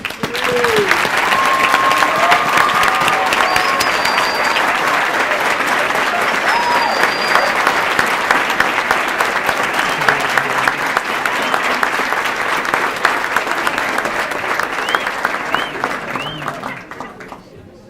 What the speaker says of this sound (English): Please help me and give a round of applause for Shadida Rahman